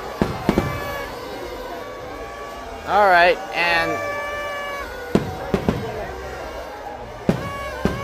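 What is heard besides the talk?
New Year fireworks at Disneyland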